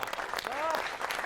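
A crowd of NSG commandos claps in tight, disciplined unison at an Independence Day event, brisk and fairly loud, with a voice speaking briefly over the applause.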